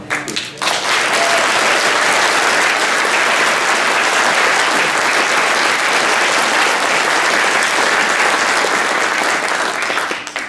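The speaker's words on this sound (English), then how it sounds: "I really want to give a big round of applause for these candidates to show up" Sustained, loud applause from an audience at a congressional district candidate forum fills the room, beginning abruptly and holding evenly for about ten seconds.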